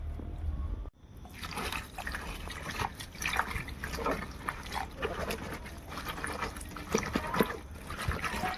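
Tap water runs and splashes steadily over cauliflower being washed in a kitchen, close and continuous for several seconds, with faint handling noises mixed in.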